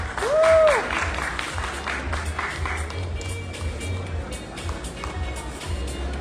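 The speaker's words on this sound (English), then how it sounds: "A big round of applause for Mr." An audience at a press presentation for a Chinatown beauty pageant claps in a sustained patter beneath a low hum, with a brief tonal squeal near the start and no talking.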